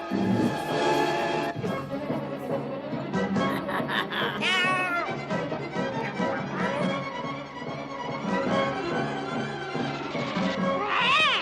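A cartoon cat meows and yowls repeatedly in close, drawn-out cries, some rising and wavering, set against animated sound effects and a busy soundtrack.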